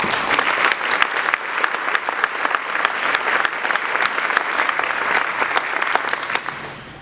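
An audience claps steadily and loudly for award winner Molly Martin at a Women of Influence ceremony, a dense, sustained round of applause from a close crowd that thins slightly at the end.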